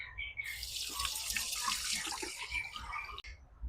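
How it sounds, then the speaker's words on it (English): Hands being washed under a running tap give a steady hiss of flowing water with splashing at close range, briefly interrupted once near the end. "Now I'm washing my hands."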